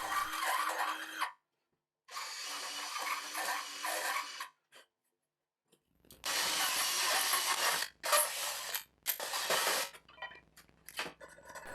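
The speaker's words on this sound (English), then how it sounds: "To finish, I used a very fine file to clean everything up." A very fine file works metal on a homemade drill sharpener in a series of close, dry rasping strokes, with bursts separated by short silences and quicker strokes toward the end.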